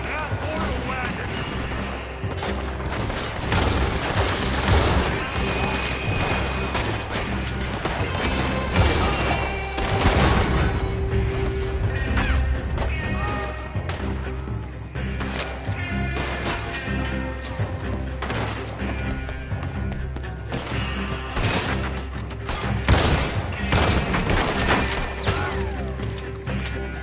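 Sustained gunfire in Red Dead Redemption 2, dense volleys of shots and crashes with occasional heavy thumps, loud and relentless across the scene, with voices shouting over the shooting.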